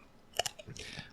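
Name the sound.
eating Pringles potato chips into microphones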